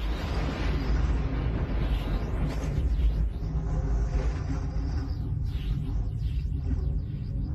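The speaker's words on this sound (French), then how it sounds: "Tous ces nuages agités ont déclenché un orage électrique." Deep thunderstorm rumble on Jupiter as a documentary sound effect, a heavy, sustained low roar that swells and rolls without pause, with faint whooshing sweeps drifting overhead and no voices.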